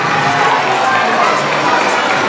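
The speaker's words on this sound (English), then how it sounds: "how about a round of applause for those lit spot t-shirts?" A live studio crowd claps and cheers for merchandise t-shirts shown on a season finale stream, a dense, bright wash of applause and whoops that fills the whole moment without a break.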